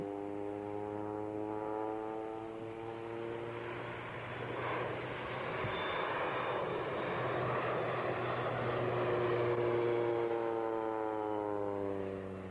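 A turbine agricultural aircraft with a long nose passes at an ag-reunion air display, its engine a loud, steady drone that rises toward the middle and holds before easing slightly, heard alone with no voices.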